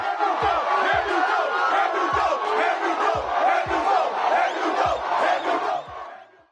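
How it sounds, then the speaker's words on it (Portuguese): A passionate crowd at the Interlagos racing circuit roars and chants as Formula 1 drivers Lewis Hamilton and George Russell greet the fans, loud sustained cheering punctuated by rhythmic deep thumps before fading at the end. "com Lewis Hamilton e George Russell saudando a torcida apaixonada"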